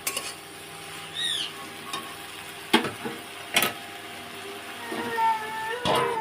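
Bitter gourd cooking with Bombay duck in a pan, a soft continuous sizzle broken by occasional sharp scrapes and clanks of stirring, close and moderately quiet.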